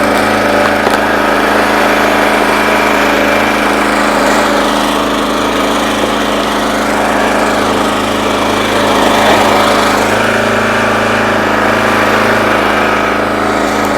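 A log splitter's small engine runs steadily and loudly close by throughout, a constant buzzing drone while cherry firewood is split and stacked, with no talking.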